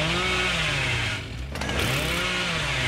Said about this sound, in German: Bin ich hier mit der Kettensäge?